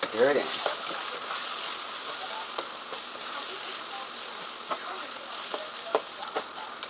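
Garlic and seasonings frying in a pan for lasagna sauce, heard as a soft steady sizzle with scattered ticks and clicks of stirring, fairly faint beneath a person talking at the start.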